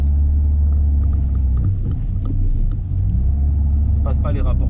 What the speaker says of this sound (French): on entend le véhicule qui broute en accélérant